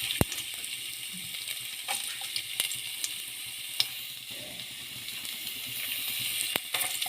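Ginger goes into hot oil and sizzles with a steady, close frying hiss, broken by a few sharp clicks and taps from the pan.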